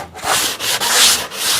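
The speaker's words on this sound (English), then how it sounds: "I'm sanding the pliers so I'll take off any rough edges, any splinters" Sandpaper rubbed back and forth on a pair of wooden pliers in a few long, scratchy strokes, loud and close with short gaps between passes.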